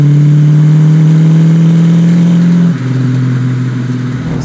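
A widebody fox body McLaren Ford Mustang accelerating, a loud, close, steady engine drone that drops in pitch partway through as it shifts, with no talking.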